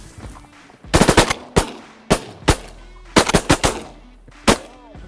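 Several loud bursts of gunfire crack out in quick clusters, close and sharp, with short rapid volleys separated by brief pauses and single shots over about five seconds; no talk is heard over the shooting.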